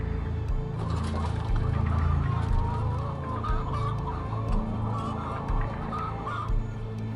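Many hens cluck and chatter together inside large egg-farm sheds housing about 60,000 caged hens, a constant crowded murmur with occasional sharper calls rising above it.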